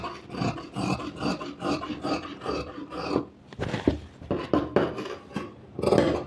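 Scissors snip through blouse lining fabric in a quick series of rhythmic rasping cuts, close and fairly loud, with a short pause before a few more strokes.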